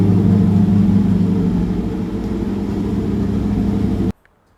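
A twin-turbo, LS-swapped Porsche 911 engine runs loud and close in a steady high rev, easing slightly before cutting off abruptly into silence, with no voices.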